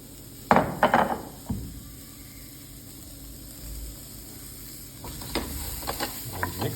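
Chopped spices being stirred and mixed in a pan, with a few sharp scraping clatters near the start and again toward the end over a quiet, steady low sizzle in between.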